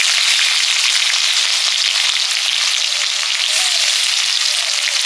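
Dry chillies, bay leaf, whole cumin and onion hit hot oil with a little sugar for a tempering, giving a loud, dense, continuous crackling sizzle close up with no voices.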